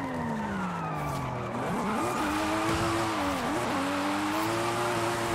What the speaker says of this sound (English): The first official drifts in this A90.